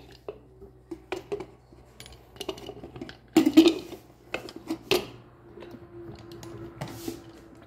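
A pressure cooker lid is set back on and locked while cooking beans, giving scattered metallic clinks, clanks and scrapes of lid against pot, close and fairly quiet, with a louder knock midway.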